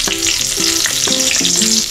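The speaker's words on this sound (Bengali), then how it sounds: "লঙ্কা ভাজা হয়ে গেছে, তুলে নিয়েছি" Dried red chillies fry in hot oil in a home kitchen, a steady broadband sizzle running the whole time beneath a tuneful music track with shifting notes.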